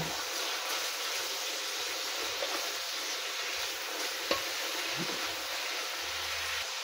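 Cabbage stir-fried in a pan for pancit bihon guisado gives a soft, constant sizzle, with faint stirring scrapes and an occasional light knock. No one speaks.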